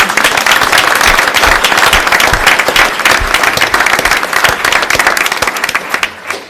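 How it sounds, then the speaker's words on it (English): Sustained audience applause fills a board meeting room, dense steady clapping from many hands at close range, holding loud throughout before thinning slightly at the very end. "one more round of applause for Adam and Nicholas."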